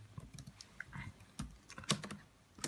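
Steady typing on a computer keyboard while entering robotics program code, a continuous patter of close key presses with a few louder, sharper strikes, likely the enter key, and no voice.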